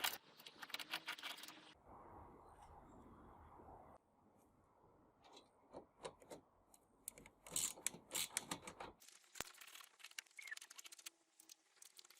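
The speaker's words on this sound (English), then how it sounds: "I'm using a Torx bit and a ratchet to remove them" A ratchet fitted with a Torx bit backs out the grille flange bolts on a Maserati Quattroporte, giving quiet, close bursts of rapid clicking with small metallic jingles and pauses between turns.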